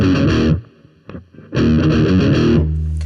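Heavily distorted electric guitar riff from a song lesson, with chugging bursts, a brief gap and a sliding figure, loud and close.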